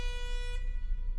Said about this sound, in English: I heard an air horn.